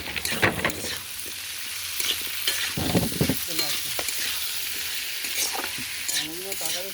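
Prawns and tomatoes sizzling in spiced oil with onion, bay leaf, dried chilli, ginger and garlic, a steady close frying hiss broken by repeated spatula scrapes and stirring knocks.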